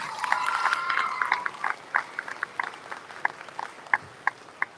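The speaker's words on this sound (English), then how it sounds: "Give yourselves a round of applause." Scattered clapping from a small group of students at a school awards event, a few hands at first, thinning into sparse individual claps as it tapers off.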